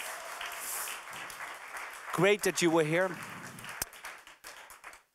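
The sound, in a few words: audience applause for pitching startups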